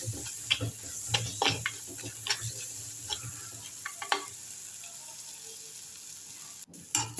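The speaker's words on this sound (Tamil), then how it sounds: "இந்த மிளகாய் தூள்களோட பச்சை வாசனை போகிற வரைக்கும் இந்த மாதிரி நல்லா வதக்கி எடுத்துக்கணும்." Chilli and turmeric powder frying in a pan for a Sri Lankan-style fish curry, with a low sizzle under frequent scraping and tapping of a stirring spoon, close and moderately quiet, ending with a louder clatter.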